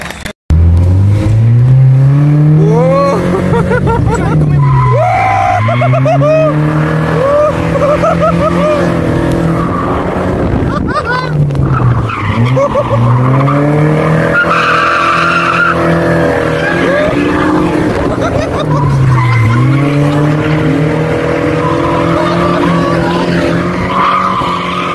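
Stunt cars at the Cinecittà World theme park in Italy skid and roar with loud, sweeping engine revs and squealing tyres, rising and falling continuously at close range.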